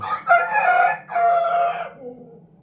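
An Aseel rooster crows once, close and loud, its long call split by a short break, then trailing off into faint low background sound.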